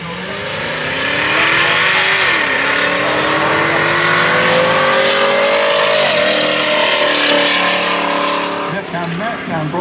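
A big black Jeep and a Ford Capri launch side by side at an SCDRA drag race, their engines roaring loudly and rising in pitch as they accelerate hard down the strip, with a commentator's voice running over the noise.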